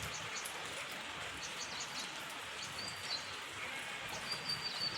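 Steady rain falling over farm fields, a dense even hiss throughout with faint bird chirps in the background.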